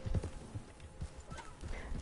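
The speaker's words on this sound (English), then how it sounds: "Stop moving, horse, damn it." Horse hooves clip-clop at an uneven gallop in the online mode of the video game Red Dead Redemption 2, fairly close and steady, with soft low thuds.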